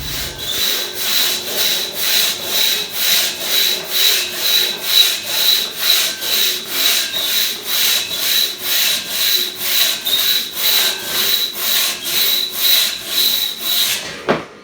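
A single buck crosscut saw cuts through wood in steady, rhythmic back-and-forth strokes, about two per second, loud and close, each stroke a raspy rush that continues for a long stretch before stopping abruptly.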